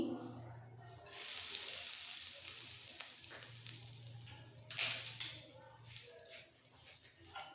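Bay leaf and asafoetida sizzle in hot oil as a tempering for dal, a soft steady frying hiss with a few louder pops and stirring clatters near the end.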